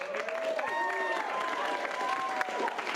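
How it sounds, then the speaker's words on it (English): Audience at an improv comedy show clapping steadily, dense applause with a few whoops and voices mixed in, moderately loud and sustained throughout. "give Roxy a big round of applause."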